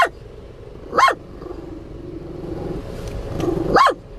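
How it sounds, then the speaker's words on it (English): A car drives past on the road by an outdoor riding arena, its low engine rumble swelling and fading over a few seconds, with a dog barking sharply twice nearby. "Sorry, this car's coming."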